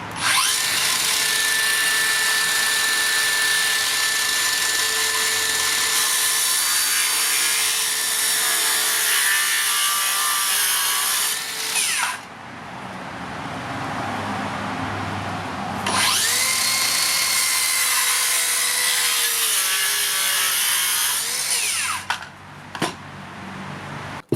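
Makita 40V 6.5-inch circular saw cutting through wood in two passes, a loud, steady high-pitched whine with cutting noise, dropping briefly between cuts and winding down at the end.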